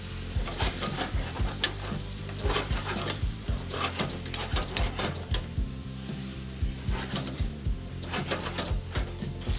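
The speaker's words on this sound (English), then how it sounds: "Give the onions and the veg a nice stir." Onions and vegetables sizzle in a pan as a utensil stirs them, producing a steady low hiss with repeated scraping taps at an uneven pace, heard close and fairly quiet without talk.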